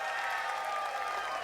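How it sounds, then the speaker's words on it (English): Crowd at a lumberjack show at the Ohio State Fair applauding and cheering for lumberjack Rudy, a brief, steady wash of distant clapping and crowd noise at moderate level. "How about a big hand for Rudy?"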